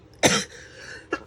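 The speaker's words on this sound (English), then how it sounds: "A cough and a sneeze all in one." A single sharp cough-sneeze burst, close and loud, followed by a short fainter exhale and a brief second catch of breath.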